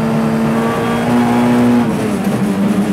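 A Peugeot 207 S2000 rally car's engine roars at high revs under hard acceleration, loud and close, its pitch dropping briefly at a gear change before climbing again, with no talk.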